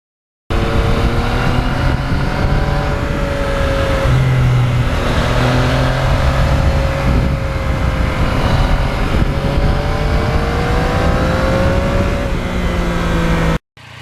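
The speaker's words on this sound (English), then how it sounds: "you can basically get on the gas, go through the gears anytime you want." A 2020 Yamaha MT-09 motorcycle accelerates hard through the gears. Its engine note climbs, drops at each shift and climbs again, loud and close over steady wind rush, with no talking.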